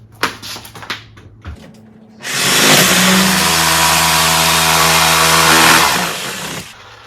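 A few clunks, then a loud power saw whirs up and grinds steadily for several seconds, blade set on its side cutting straight up a wall for a door installation, before winding down.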